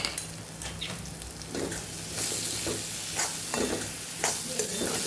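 Onion mixture with sugar just added, cooking in a pan for a Kathiyawadi onion kharia recipe, giving a steady soft sizzle and frying hiss with occasional stirring scrapes throughout.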